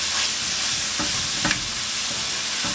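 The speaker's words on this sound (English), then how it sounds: "we're just going to cook these spices for a minute or two just to help develop the flavor of the spices" Spices sizzle and fry in a pot for tortilla soup, a steady, loud crackling hiss with a few soft scrapes of stirring, no voices.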